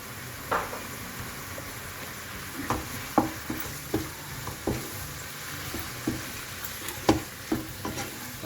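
Minced meat frying in a hot pan with green chili paste, a steady low sizzle broken by frequent scraping and stirring knocks from a utensil, close and fairly quiet with no talking.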